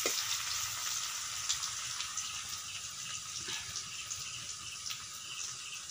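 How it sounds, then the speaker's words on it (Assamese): Onions fry in a pan with a constant soft hiss and crackle, quiet and close, steady from start to finish with no voices. "এইফালে ভাজি আছে পিঁয়াজখিনি।"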